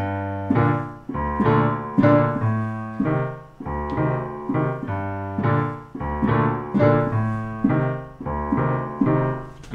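Piano plays repeated chords in a steady rhythm, each struck and left to decay, moderately loud and close with no voices.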